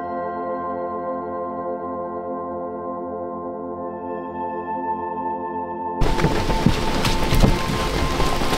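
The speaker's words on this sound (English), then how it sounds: "It's just started to rain at the moment" Steady rain with a sudden loud burst of heavy downpour and crackling thunder-like rumble partway through, preceded by a humming tonal drone.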